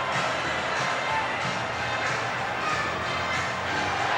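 Rugby fans at the 2009 Super League Grand Final between Leeds and St Helens, a big stadium crowd filling the space with a sustained roar of mixed groans and cheers, with no break in the noise.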